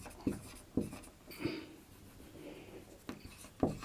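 Chalk scratches and taps across a classroom board as a question is written out, in short strokes separated by brief pauses, close and fairly quiet.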